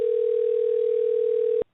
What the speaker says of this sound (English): I just hear ringing, G.